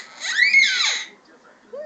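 A young child imitates a cat's meow with one long, rising then falling, high-pitched cry, close and loud, followed by silence and the start of another sound at the end.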